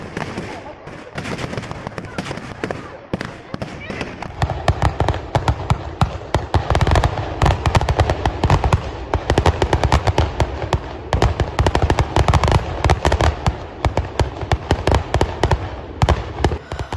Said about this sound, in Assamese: ইয়াতে প্ৰায় বহুত হাজাৰ বোমা একেলগে ৰেডি কৰা হৈছে